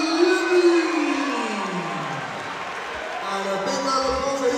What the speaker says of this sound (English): And a big round of applause for his opponent